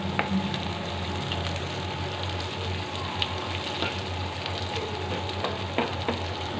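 Tuna pieces frying in oil for pickle, a steady dense sizzle and crackle with small spitting pops throughout, close and continuous with no voices.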